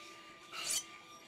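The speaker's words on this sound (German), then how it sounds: "Nein, ich wollte den Schleifstein benutzen." A blade drags across a whetstone in Gothic 3, a short, quiet grinding rasp that swells and fades within half a second over a faint steady background hum.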